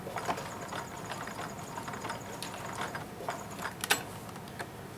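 Sewing machine stitching a T-shirt rag quilt, running in short irregular bursts of rapid clicking mechanical stitches as it is stopped at seams, close and fairly quiet.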